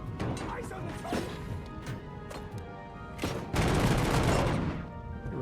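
Gunfire in the video game Robocop: Rogue City, loud bursts of shots and crashing impacts in a busy firefight, with voices shouting over the action.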